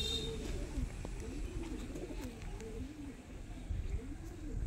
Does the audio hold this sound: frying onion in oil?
no